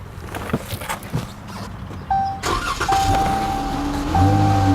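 A Dodge Charger engine cranks, catches and settles into a steady idle close by, with a faint whine over the low rumble.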